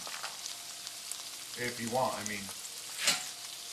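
Tortilla chips fry in hot oil for migas, a soft crackling sizzle with brief bubbly bursts, quiet under someone talking.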